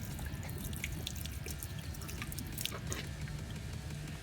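Water applied to a ceramic-coated car, a steady, close hiss of spraying and splashing with scattered drips that runs continuously throughout, moderately quiet.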